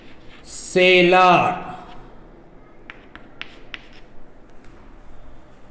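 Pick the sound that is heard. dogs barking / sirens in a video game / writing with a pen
writing with a pen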